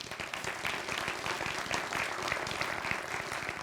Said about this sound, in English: let's give a round of applause for California